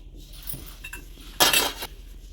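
Brass kitchenware, a plate, bowls, a glass and a spoon, knocks and clinks together as it is handled, giving a few light taps and then one bright, ringing metallic clatter at close range, with no talk.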